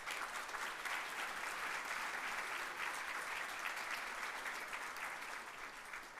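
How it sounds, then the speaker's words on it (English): Steady, distant applause from an audience honoring awardees at an annual community awards ceremony, a continuous wash of clapping held at a faint level for several seconds. "let's give a round of applause to the awardees."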